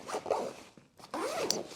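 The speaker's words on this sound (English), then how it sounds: "We love this beaver tail, horseshoe, zipper, whatever you wanna call it." A horseshoe zipper on a backcountry bear gear bag is pulled open in two quick close rasping strokes with a short pause between them.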